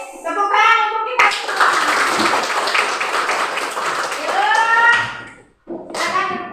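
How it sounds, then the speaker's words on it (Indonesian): Classroom of fifth-grade students clapping together during a maths lesson, a dense burst of applause lasting several seconds, framed by a teacher's speech before and after. "Tepuk tangan untuk kita."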